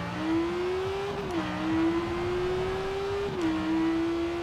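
An ItalDesign Zerouno supercar in Forza Horizon 4 holds a steady, high engine drone that climbs gently, dips briefly at two gear shifts, then keeps revving, loud and continuous with no speech.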